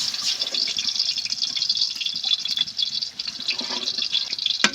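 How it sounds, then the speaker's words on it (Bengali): Water is poured into a pot of frying masoor lentils with drumstick leaves, a hissing, splashing pour with bubbling sizzle, close and continuous with no talking. "এবার আমি জল দিয়ে দেব।"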